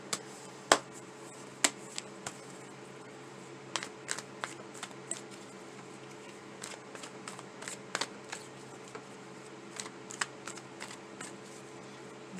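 Tarot cards being shuffled by hand in a quiet room: a string of sharp, irregular riffles and slaps, some louder than others, spread across a soft, low background.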